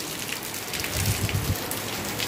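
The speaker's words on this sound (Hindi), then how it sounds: "बहुत ज़ोरदार किस्म की बारिश शुरू हो गई है।" Heavy rain pours steadily in a dense, even hiss of drops striking surfaces, loud and continuous with no voices.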